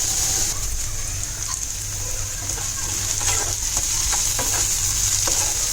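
Tomatoes frying in a pan for fish-head kheema, a steady bright sizzle with scattered clicks and scrapes of a spoon stirring through it, close and continuous.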